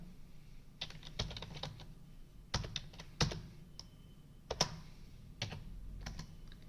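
Irregular clicking of a computer keyboard while entering data in Excel, scattered bursts of keystrokes and single taps over several seconds, close and fairly quiet against a low room hum.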